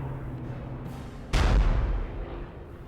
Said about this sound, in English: 88mm German guns pounded the British armour.